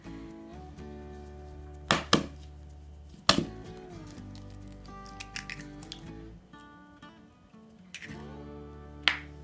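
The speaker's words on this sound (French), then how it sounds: "Si jamais vous prenez le beurre, vous prenez un couteau et vous le coupez au-dessus du saladier" Butter cut into pieces with a knife over a mixing bowl for mint chocolate cookies, a few sharp, separate knife taps and thuds spaced apart against a quiet background.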